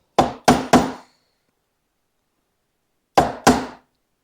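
A hammer taps a knife into wood to score a dado: three sharp, close knocks in quick succession, a pause, then two more, each ringing briefly before dying away in silence.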